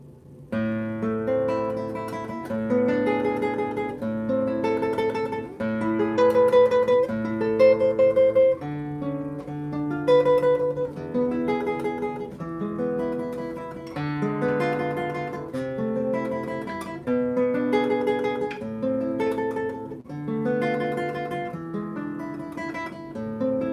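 Classical guitar playing Carcassi's Op. 60 A minor arpeggio study, with steady rolling arpeggiated notes at moderate volume, heard alone throughout.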